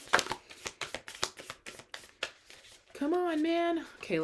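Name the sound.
shuffling tarot cards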